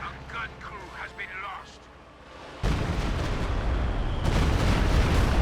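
Stuka dive bomber strike in Company of Heroes 2, a World War II strategy game. Talk comes first, then a loud, sustained explosive roar bursts in halfway through and surges again near the end.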